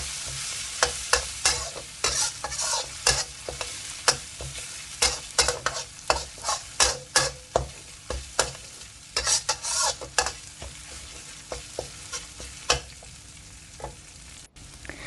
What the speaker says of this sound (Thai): พอน้ำมันเริ่มร้อนเราก็ใส่เครื่องลงไป ผัดค่ะ